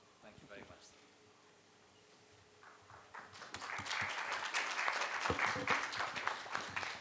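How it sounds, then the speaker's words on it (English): Applause from a conference audience at a healthcare summit begins softly, then swells into fuller clapping for the rest of the stretch, with some voices mixed in early on. "Round of applause for such an interesting and engaging presentation."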